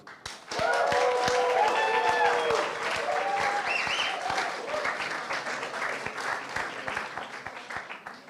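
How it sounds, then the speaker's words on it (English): A live talk-show audience bursts into applause, loud and dense from the start, then gradually thins to scattered claps, with a few cheers or voices mixed in early on. "the live audience may applaud"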